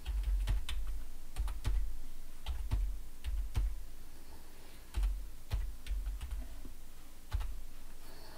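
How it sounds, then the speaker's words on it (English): Irregular bursts of keystrokes clack on a computer keyboard nearby, fairly quiet, with short pauses between clusters of typing and no speech. "some random numbers here that I'm typing in."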